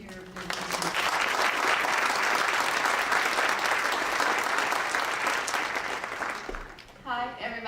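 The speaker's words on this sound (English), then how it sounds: "I'd like to give a round of applause to all those lower school teachers" An audience at a school gathering breaks into sustained applause for lower school teachers, a dense clapping that rises quickly, holds steady for several seconds and then fades as a voice begins to speak.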